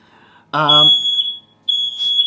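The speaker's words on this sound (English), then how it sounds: "alarm's going off" A piercing, steady high-pitched alarm tone sounds, cuts out briefly and resumes, after a short burst of voice at the start.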